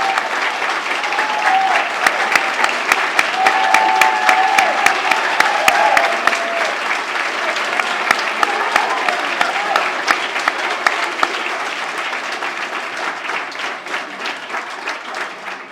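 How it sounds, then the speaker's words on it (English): Long, lively applause at a STEM for All gala as volunteer teachers stand, many hands clapping densely with sharp individual claps standing out and faint crowd voices underneath, easing slightly toward the end. "I would like all you guys to stand up for a well-deserved round of applause"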